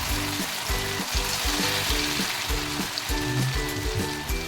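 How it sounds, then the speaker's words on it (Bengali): Lentil and banana flower fritters deep-fry in hot oil, producing a dense, steady crackling sizzle like heavy rain, close and continuous under a rhythmic low background pulse. "মিডিয়াম আঁচে গোল্ডেন ব্রাউন হওয়া পর্যন্ত ভালো করে ভেজে নিলেই তৈরি হয়ে যাবে মুসুর ডাল দিয়ে মোচার বড়া"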